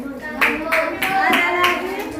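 Children clap their hands in a classroom, a handful of loose bursts roughly every third of a second, with young voices chattering over and between the claps at close range.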